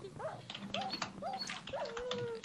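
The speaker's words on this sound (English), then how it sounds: "Oh no, it's a puppy." A puppy whimpers and yips in a Minecraft Walls match, several short rising whines and one longer cry over busy game noise and clatter.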